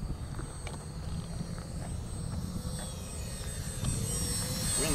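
An FMS P-51D 800mm radio-controlled model plane flies on a gusty day, its electric motor whining steadily at a distance, with wind noise running throughout.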